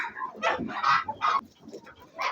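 Ordinary laying hens, not a pure breed, cluck in short, close bursts at their feeder on a small farm, with brief quiet gaps between the calls.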